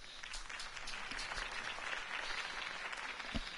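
Crowd applause from an in-game political rally audience in the Batman Telltale video game, a steady dense wash of clapping and cheering that holds throughout without pause.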